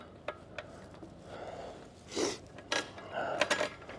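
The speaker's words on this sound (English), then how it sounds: "remove the bolt, slide the spacer in, put the bolt back" A bolt going back in during a catch can install on a 2021 Jeep Gladiator EcoDiesel: close metallic clicks and ratcheting bursts, a few short scrapes and taps at irregular intervals, with no talking.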